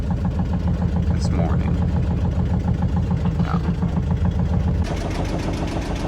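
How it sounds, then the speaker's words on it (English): A sailboat's engine idles in neutral at sea, a steady low rhythmic chugging that runs close and constant throughout while someone speaks over it. "The engine's running, but we're actually just in neutral because I can't decide which way to go."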